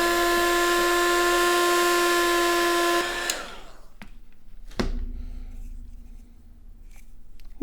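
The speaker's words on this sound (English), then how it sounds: "give this a blast with the hot air gun" Hot air gun blowing on the glue of Grado Hemp headphones during a cable modification, a loud steady whooshing hum with a whistling tone that cuts off abruptly, followed by clicks and quiet handling.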